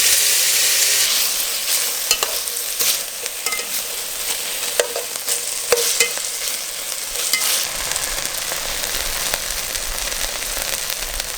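Steady, loud sizzling of beef frying in olive oil in a big frying pan, with crackles and pops throughout and occasional stirring sounds.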